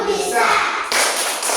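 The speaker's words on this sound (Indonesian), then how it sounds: "Tepuk semangat" Children in a classroom doing a rhythmic spirit clap, quick bursts of hand claps and thuds close by, with young voices mixed in.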